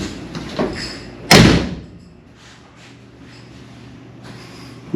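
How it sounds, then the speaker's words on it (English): A car door shuts once with a loud, solid thud after new carbon door sills are fitted, followed by quiet room tone and a faint rustle near the end. "let's take a look, see if the door shuts real quick"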